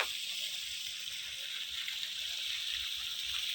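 Hot spring pool water at Pong Phrabat hot spring, a soft steady trickle and gurgle of flowing water, fairly faint and continuous, with no talk.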